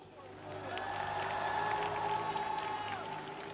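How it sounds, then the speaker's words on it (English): An arena crowd at the Cup of China figure skating event cheers and applauds a champion, a steady swelling roar of clapping and cheers that builds and holds, with a voice talking over it. "Let's cheer for the champions!"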